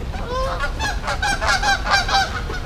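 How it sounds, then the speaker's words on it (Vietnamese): A flock of geese in a park honk repeatedly in overlapping nasal calls as they fly in, loud and close, with a low outdoor rumble beneath and no talking. "Có rất nhiều mấy con ngỗng."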